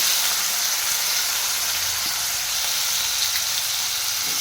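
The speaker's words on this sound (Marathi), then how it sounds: "जिरे मोहरी छान तळले" Steady, dense sizzling of cumin and mustard seeds frying in hot oil, loud and close, with a faint occasional clink underneath and no talking.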